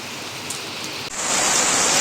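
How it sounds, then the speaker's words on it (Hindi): Heavy monsoon rain pouring down steadily in Ranchi, India, a dense hiss that swells louder partway through, with no voices. "फ्रेंड्स ये देखो रांची में कितनी ज़ोरों से बारिश हो रही है"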